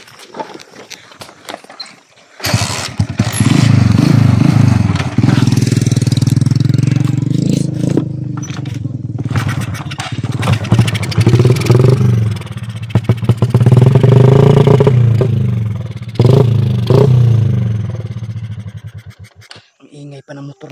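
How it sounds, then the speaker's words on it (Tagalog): A motorcycle engine roars into loud, rough revving at about two seconds and keeps running strongly for most of the stretch, surging and dipping before cutting out near the end, with people talking over it. "Ang ingay pa ng motor na ito."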